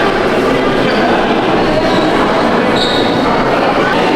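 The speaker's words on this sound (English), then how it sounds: "the train journey is like a ride in itself, and it's different in both directions" Theme park train at Universal Orlando, heard from on board as a steady, loud rumble of wheels and carriage noise throughout, with a faint high squeal partway through.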